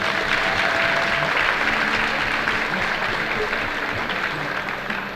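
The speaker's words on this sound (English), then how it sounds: "Now let's give a big round of applause for our 2025 senior cheerleaders." Applause for senior cheerleaders at a high school basketball game between Mansfield Senior and West Holmes, a dense, sustained clapping from a large crowd in a gym that holds steady throughout and fades slightly at the end.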